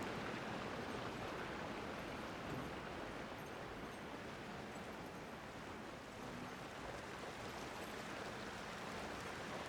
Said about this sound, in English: Pretty waterfall.